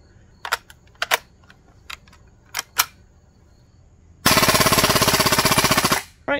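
A Crosman AK1 BB airgun fires full auto: scattered sharp mechanical clicks, then one loud, rapid, even burst of shots lasting under two seconds, close by, ending with a final click.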